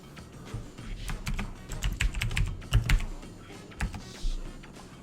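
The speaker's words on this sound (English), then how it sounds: "Can't believe I'm actually typing this." Rapid typing on a computer keyboard, with clustered key clicks in an uneven rhythm, close and fairly loud against a low room rumble, with no talking.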